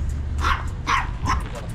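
A dog barks three times in an even rhythm, fairly close and loud, over a steady low hum of an idling vehicle outside a delivery stop.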